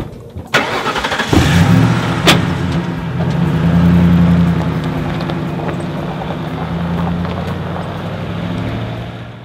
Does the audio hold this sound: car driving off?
yes